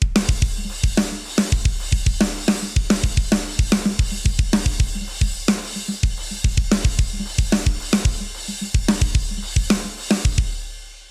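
A software drum kit modeled on DW drums and Zildjian cymbals plays a groove with its default preset: punchy kick and snare hits in a steady rhythm under bright cymbal wash, loud and close, with no talk.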